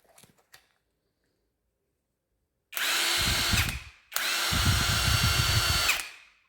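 A battery-powered impact wrench runs in two loud, close bursts of about a second and two seconds with a short gap between them, after its Chinese battery pack has been repaired. A faint clatter comes before the first burst.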